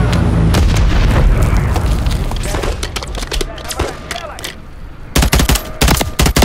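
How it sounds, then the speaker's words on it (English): Call of Duty Modern Warfare 3 battle at a dam, with loud booming explosions followed by bursts of rapid gunfire, close and intense, with voices speaking amid the combat. "I'm taking fire from the bridge."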